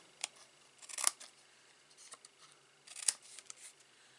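Scissors snip through paper while a gift box is being made, two sharp distinct cuts about two seconds apart with faint rustling between, close and quiet.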